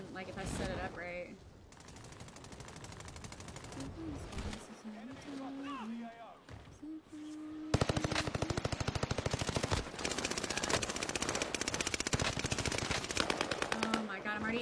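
Rapid bursts of automatic gunfire from a video game gun ring out loud and steady, with talking over the first half before the shooting takes over.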